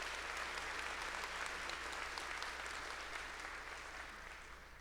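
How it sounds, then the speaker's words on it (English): Commencement ceremony audience applauding the stage party, a dense, steady wash of many hands clapping throughout, fading slightly toward the end. "A round of applause, please,"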